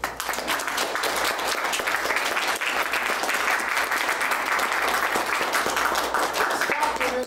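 Convention audience gives a sustained, even round of applause, a dense continuous patter of many hands clapping at moderate distance.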